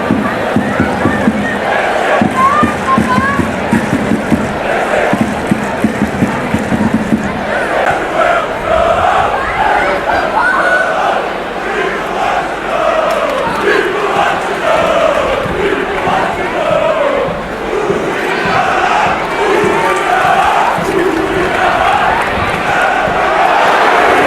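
Football supporters at a Hvidovre IF match sing and chant in a loud, continuous crowd roar, with voices blending into a rough, rhythmic mass throughout.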